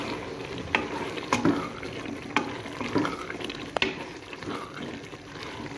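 Black chickpeas and green chillies roasting in a pan, a gentle sizzle with periodic spatula scrapes and light taps, close and fairly even, no voices.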